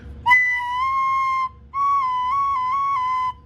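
Recorder played with two sustained, clear notes, the first held alone before a short break, the second shifting pitch briefly near the end, loud and close.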